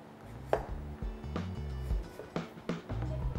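A knife slicing winter melon into thin slices on a cutting board, about half a dozen distinct thuds at an unhurried, fairly even pace, quiet and close.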